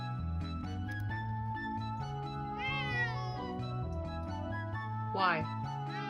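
A kitten meows loudly twice, a long rising cry and a shorter sharp one, over steady background music.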